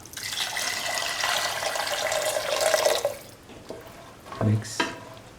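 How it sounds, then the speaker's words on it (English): Water poured into a cooking pan of sautéed chickpea mixture for lemon carrot rice, a steady close splashing pour that runs for about three seconds and then stops, followed by a couple of brief clinks and stirring sounds. "Pour in 300 ml of water."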